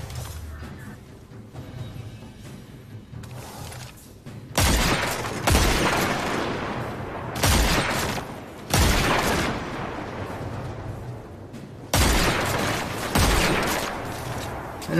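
Repeated scout rifle shots in a shooter game, each a sharp loud crack with a tail, spaced every couple of seconds after a quieter opening stretch of game ambience.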